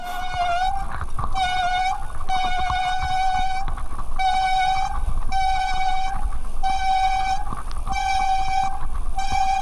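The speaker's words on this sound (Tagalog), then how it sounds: "Nakakainis pa yung tunog ng preno." Motorcycle brakes on a loop ride through Bataan squeal in a repeated series of high, piercing tones over steady rumbling road and engine noise, close and loud.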